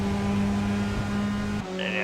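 Several Spec MX-5 race cars in iRacing at Road America buzz along together, steady engine drones with sustained tonal whine, a brief dip near the end, with talk mixed underneath.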